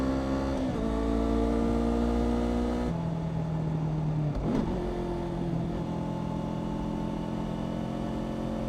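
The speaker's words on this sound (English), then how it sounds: "Little early on the rev match there, but that's all right." A Kawasaki Ninja 500 motorcycle engine on an open country road, droning steadily, then a quick blip of revs on a downshift before settling to a lower, steady hum, close and loud with wind noise.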